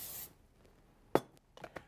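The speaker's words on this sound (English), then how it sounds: "We're going to spray with a little bit of our pan coating." A short hiss of cooking spray pan coating is sprayed into a saute pan, followed by a few soft clinks and taps of cookware.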